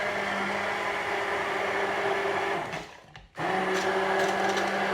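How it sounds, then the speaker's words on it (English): Hand blender whirring loudly through a raspberry ice lolly mixture, a steady motor hum that cuts out briefly near the end, then starts up again at full strength. "I'm just going to use a hand blender this time"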